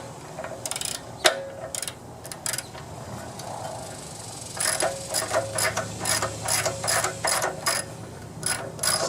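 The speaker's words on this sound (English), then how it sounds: "I'm going to take the spark plug off." A ratchet clicks in quick, uneven runs while taking the spark plug out of a pressure washer engine. The clicks sound close over a steady low background noise.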